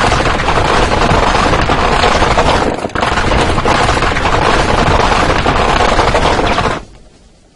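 An M134D Gatling machine gun fires in a dense, loud buzzing roar of rapid shots, continuous for nearly seven seconds with one brief break, then cutting off abruptly.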